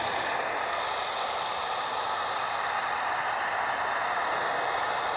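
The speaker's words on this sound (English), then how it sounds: "this particular heat gun has two settings, low and high. I'm gonna put it on high" Heat gun on its high setting held about an inch from a plastic 55-gallon drum, giving a steady, loud broadband blowing hiss that stays constant throughout with no talking.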